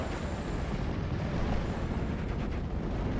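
A heavy, rumbling bomb explosion in a 3v3 wartime strategy game, a dense sustained roar with low booming energy filling the whole stretch, no voices over it.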